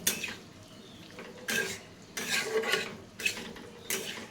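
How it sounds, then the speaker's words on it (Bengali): Shrimp stir-fried in a pan alongside potato and taro, with a utensil scraping and clinking against the metal in uneven bursts over a faint background sizzle, close by and moderately loud. "আর আর হচ্ছে চিংড়ি মাছটাও দিয়ে দেবো একসাথে। এই দুটো কষতে থাকবে"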